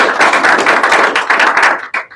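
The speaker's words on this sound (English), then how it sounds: "So let's give them a round of applause." Audience applause at a user group meeting, a short burst of many hands clapping in a room, dense and fairly close, trailing off after about two seconds.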